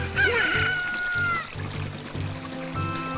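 A cucco rooster in the Ocarina of Time video game crows once, loud and close, followed by a short musical stinger and gentle game music.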